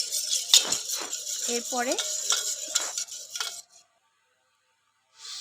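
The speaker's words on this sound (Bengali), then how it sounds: "5 ফোড়নের গুঁড়া, হলুদ, মরিচের গুঁড়ো দিয়ে এটাকে ভালো করে ফেটিয়ে নেব।" Yogurt being whisked in a bowl with five-spice powder, turmeric and chili powder for a raw banana kofta curry: rapid, close scraping and tapping strokes for a few seconds, a brief spoken word, then silence.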